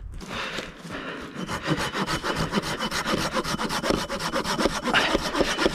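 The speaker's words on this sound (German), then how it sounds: "diese kleine Säge, die geht ja richtig ab hier." A small, rusty hand saw rasps steadily through firewood outdoors in freezing weather, quick back-and-forth strokes in a fast, even rhythm, close and fairly loud throughout.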